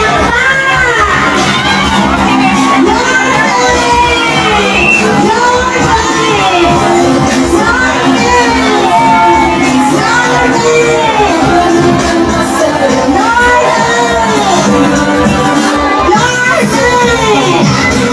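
A large crowd at Mayor Isko Moreno's 50th birthday celebration cheers, whoops and shouts loudly and without pause, with children's shrill voices mixed into a dense, steady roar.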